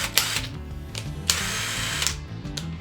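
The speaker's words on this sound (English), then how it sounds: "that's an actual freaking drill" A cheap Wish power drill runs with a steady mechanical whir, its motor tone holding level, broken by a few sharp clicks and bumps from handling, heard alone without talk.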